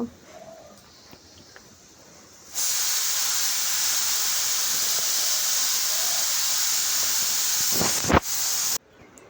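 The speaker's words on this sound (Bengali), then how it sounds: "এবার এটাকে এপিট ওপিট করে ভাজা করে নিতে হবে একটু আস্তে আস্তে আঁচ দিয়ে" Pitha deep-fries in a kadai over a low flame and is turned side to side. After a quiet start, a loud, steady, close hissing sizzle sets in and lasts several seconds, with a brief clank near the end.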